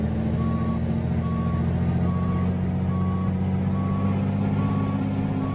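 A Peterbilt 359 truck in American Truck Simulator reversing, its steady evenly spaced backup beeps sounding over a constant low diesel engine drone.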